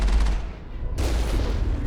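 Vehicle cannon and machine gun fire in the sci-fi video game Mass Effect, a dense, continuous barrage of heavy booming shots and rapid bursts, loud and close, with no speech over it.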